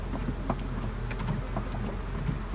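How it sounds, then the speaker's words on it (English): Honey bees swarm thickly around hives in a bee yard beside a clover pasture, making a steady, close buzzing drone with individual bees zipping past. "we are practically in a cloud of bees"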